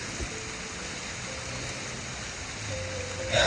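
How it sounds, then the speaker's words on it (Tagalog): Steady broadband hiss of rain falling, continuous and even throughout, with a slight swell near the end. "Umuulan."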